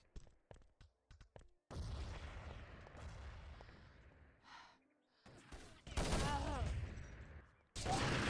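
A grenade blast and gunfire in a competitive team shooter match, with sharp scattered shots early, then a broad loud burst followed by heavy bursts of fire, and a voice talking over parts of it.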